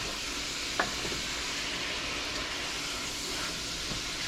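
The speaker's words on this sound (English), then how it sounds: "Stir this up." Food frying in a pan gives off a soft, steady sizzle and hiss, with a single light clink of a utensil and faint stirring scrapes over the continuous cooking sound.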